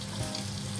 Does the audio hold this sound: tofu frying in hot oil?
yes